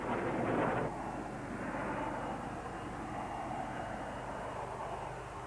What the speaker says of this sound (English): 2 reconnaissance aircraft fly through to assess the damage to the target